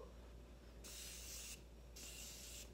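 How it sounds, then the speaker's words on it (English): Morphe makeup setting spray hisses out in two close bursts of under a second each, with a quiet pause between them. "I am gonna use the Morphe setting spray here."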